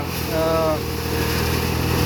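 An old 18 hp small Japanese tractor drives a 3-foot rice thresher, giving a continuous mechanical engine drone with a steady hum and no break.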